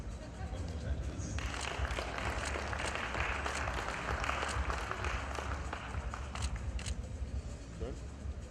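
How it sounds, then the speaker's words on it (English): Sustained audience applause at the Pulses Conclave, a dense wash of clapping from a large crowd in a hall, steady and moderately loud throughout. "thank you for the deafening applause"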